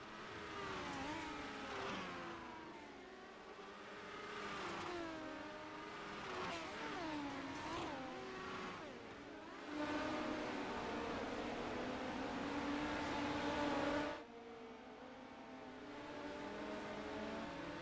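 Dirt midget race cars running warm-up laps at Charlotte, several engines whining and revving as they circle, rising and falling in pitch as cars pass, steady and somewhat distant with no talking.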